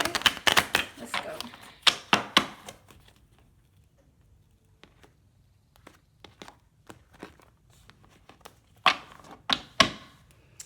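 Tarot cards being shuffled by hand in quick riffling bursts of crisp papery flicks, a dense flurry at the start, sparse scattered snaps in the middle, then another brisk run near the end.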